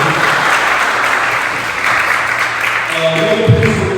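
Audience applause at a scholarship awards ceremony for an athlete foundation, steady dense clapping filling the room for several seconds, with some faint background sounds near the end.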